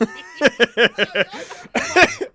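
A rapid series of harsh coughs bursts out close by, a few short hacks in quick succession followed by a longer throaty cough.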